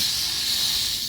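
Steady, unbroken hiss of a steam cleaner blowing steam onto a car's headliner, loud and close, with no voices over it.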